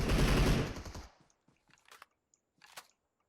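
Gunfire in the mobile game PUBG Mobile: a dense, loud burst of rapid automatic shots lasting about a second, followed by a few scattered, quieter single shots and impacts.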